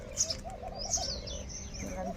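Sparrows chirp and tweet in short bursts while eating millet, fairly close, over a low background murmur.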